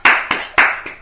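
Podcast hosts clap in a small room, three or four sharp, close hand claps in quick succession, loud and ringing briefly, with no talk heard.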